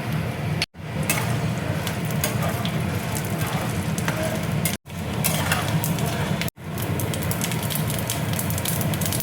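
Mustard seeds sizzle and crackle loudly in hot oil for curd rice tempering, a dense steady hiss with popping, briefly cut off a few times.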